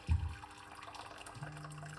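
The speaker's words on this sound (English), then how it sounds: "I'm going to put a large cups of water" Water pours from a tap or container into a large cup, a soft continuous splashing and gurgling with a slight rise in pitch as it fills, fairly quiet and without speech.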